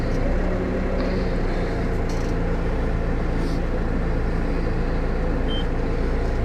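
A tractor pulling a plough moves off in forward gear, its engine a loud, steady diesel drone with a low hum and constant mechanical rattle throughout.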